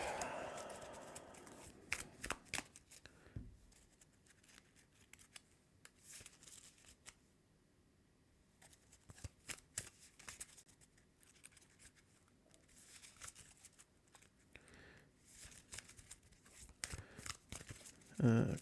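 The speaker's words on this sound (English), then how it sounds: "I forgot to shuffle up the challenge deck" Cards from a challenge deck being shuffled by hand, bursts of riffling and snapping card noise separated by a quieter pause, close and fairly soft, with occasional faint talk in the background.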